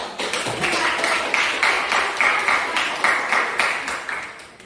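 Classroom applause during a school teaching session, many hands clapping in a steady, pulsing group rhythm that keeps a regular beat before tapering off at the end.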